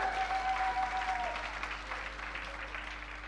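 A church congregation claps together in steady, even applause that fills the room throughout at moderate loudness, with faint voices mixed into the crowd.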